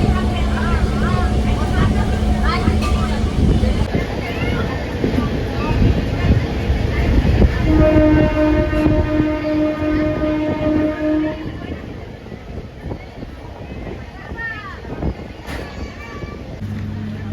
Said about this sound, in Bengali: আমাদের ট্রেন ঢুকে গেছে এখানে